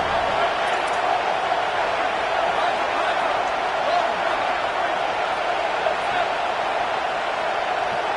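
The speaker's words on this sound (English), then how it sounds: "Listen to this crowd just shaking the girders of this place" A football stadium crowd roars in a dense, continuous wash of cheering that holds loud and steady throughout, with no clear breaks or peaks.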